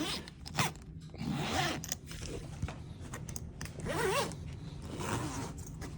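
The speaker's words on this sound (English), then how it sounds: "So we're going to unzip the bottom here." A zipper on the bottom compartment of a fishing gear travel bag is drawn open in several rasping pulls, close and fairly loud, with short pauses between strokes and no talk.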